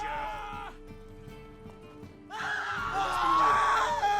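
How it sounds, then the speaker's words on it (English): Townsfolk scream in a tavern scene from The Witcher 3: Wild Hunt, with shrill, wavering cries that drop away briefly, then return louder and more frantic near the end. "Why is everyone screaming?"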